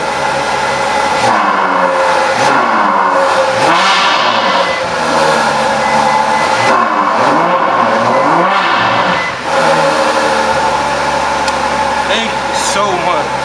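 A Ferrari FF V12 engine fires up and revs loudly and repeatedly up close, with rising and falling engine notes, while people talk over it.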